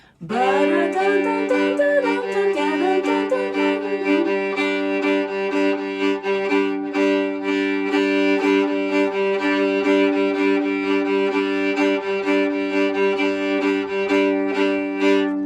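A solo fiddle plays the lively tune Flatwoods with steady bowed notes and droning double stops, bright and close, with no voices.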